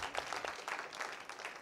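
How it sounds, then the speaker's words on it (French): An audience at a medical-faculty lecture on ethics and cancer gives a short round of soft, distant applause, faint and brief, with no talking. "on peut applaudir nos collègues"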